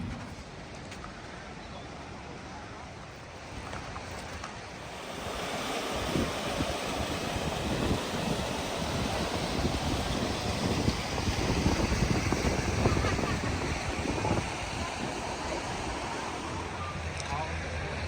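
Broad, steady rushing of the Kancamagus River past granite rocks at a rest area, a continuous wash of flowing water with wind buffeting the microphone, swelling louder partway through and holding steady to the end.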